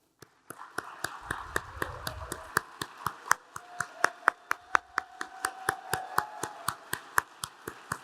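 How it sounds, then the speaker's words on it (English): An audience at an awards ceremony applauds, heard as evenly spaced, sharp claps, a single pair of hands prominent and close, with a faint sustained tone and a low murmur in the background. "Would you guys please stand so we can applaud you?"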